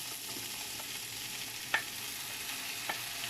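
Bitter gourd (ampalaya), already salted, frying in hot cooking oil in a home kitchen, giving a steady close hiss with a couple of brief sharper crackles and stirring clicks, no voices.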